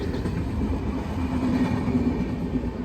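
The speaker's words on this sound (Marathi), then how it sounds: "आली का ट्रेन" A train rumbles past close by, a steady low roar with rhythmic wheel clatter on the tracks.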